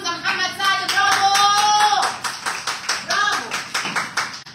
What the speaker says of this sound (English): clap your hands for Hamza Muhammad Saad